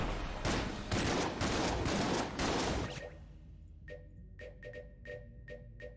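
Gunfire and bullets in the Enter the Gungeon video game: a dense burst of rapid shots for about three seconds, then sparse sharp single hits and pings, fairly quiet overall.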